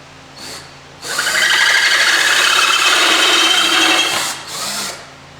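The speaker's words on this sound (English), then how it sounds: "we're going to drill a hole from the truss rod area to the truss rod wrench access hole" A power drill bores a hole through a wooden guitar neck from the truss rod channel to the wrench access hole: a short spin-up, then a loud, steady whining cut for about three seconds, followed by a brief second burst.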